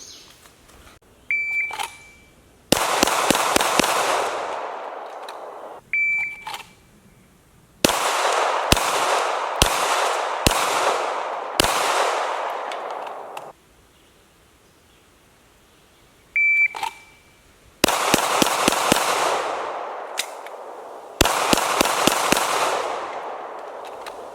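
Glock G17 gen 3 pistol fired in rapid strings during an IDPA 5x5 classifier, sharp loud shots in several bursts of about five, each string preceded by a shot timer beep, with quiet pauses between, no talk.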